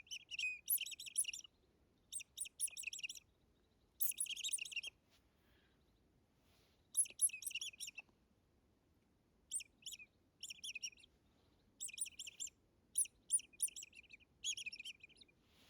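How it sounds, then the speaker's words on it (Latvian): Tit birds answer a hunter's Nordic mouse predator call with clear, high chirping calls in about nine short repeated bursts separated by brief pauses, close and fairly loud over a quiet background. "Zīlīts atsaucās."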